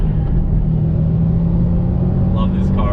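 A 2019 Subaru WRX STI S209 performance car under throttle, a loud, close, steady engine rumble and drone heard from inside the car, holding a constant pitch with no speech.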